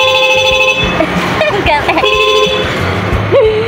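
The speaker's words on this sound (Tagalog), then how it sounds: "biglang dumating si Papa, bumusina sa labas" A vehicle horn toots outside in short blasts amid street noise, while people talk nearby.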